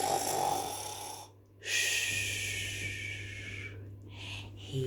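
A person imitates snoring with their voice during a nursery rhyme, giving a few breathy, rasping snore sounds with a short pause, close and fairly quiet.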